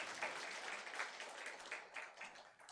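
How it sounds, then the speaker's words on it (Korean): Congregation applause during a Sunday church service, a brief burst of many hands clapping at moderate level, steady and fairly close, with no talking over it. "박수 한번 해주시기 바랍니다."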